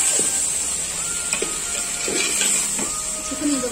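Chicken sautéing in a pan with masala, a steady sizzle and hiss with a few clinks and scrapes from stirring, no talking.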